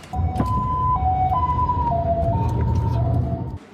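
A loud wailing ambulance siren alternating between two tones, steady and close, carrying two people injured in an explosion in Luodong, Yilan, with low traffic rumble underneath throughout.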